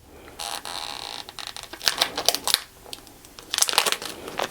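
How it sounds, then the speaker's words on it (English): Transfer tape peeled off vinyl on a heart craft, a series of close, crackly tearing and crinkling bursts with short pauses between them, fairly quiet overall. "we'll just peel back that transfer tape, leaving the vinyl on the heart."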